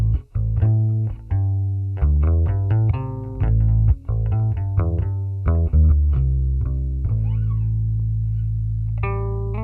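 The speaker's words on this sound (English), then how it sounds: "so here we are with this Washburn 90s active bass" A Washburn 1990s active bass played through a Fender Rumble 100 amp gives a loud, close line of plucked notes with rich, mellow low end, ending on a long sustained note.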